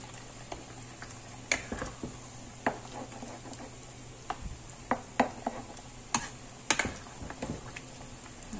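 Coconut milk being stirred in a cooking pan, with scattered light scraping and tapping strokes of a utensil over a faint steady simmering hiss, no voices.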